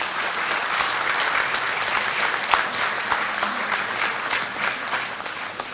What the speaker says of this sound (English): please give Pat a round of applause